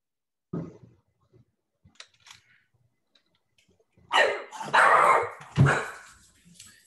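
A dog barks close by, a single woof followed after a pause by a burst of loud, rough barks and a final bark, with near silence between.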